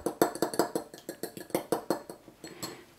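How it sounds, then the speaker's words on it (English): Three eggs whisked in a bowl, a quick steady run of close, bright clinking taps of whisk against the bowl, about a dozen strokes in rhythm. "Whisk them."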